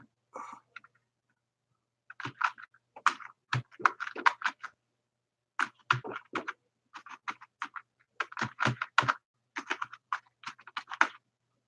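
Fast clattering keystrokes on a computer keyboard with a broken caps lock key, close and fairly loud, coming in irregular bursts separated by brief silent pauses.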